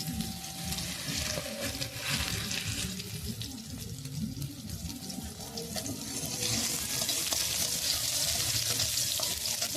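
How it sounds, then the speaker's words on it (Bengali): Onions frying in a pan until reddish brown for a Bangla home-cooked rupchanda fish dinner, a steady broadband sizzle with running-water-like hiss and occasional stirring, close and continuous with no talk. "পেঁয়াজগুলো ভালো করে কেটে নেব, লাল লাল করে ভাজবো পেঁয়াজগুলো।"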